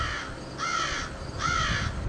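Two crows caw, each call a harsh drawn-out note, one after another with a short pause between, at moderate distance over a faint low background hum.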